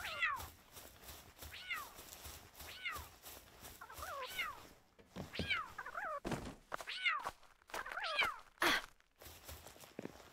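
A cat-like Pal in the game Palworld meows repeatedly, a string of short, whiny mews rising and falling at uneven intervals, fairly close and moderately loud, with occasional soft thumps between calls and no talk.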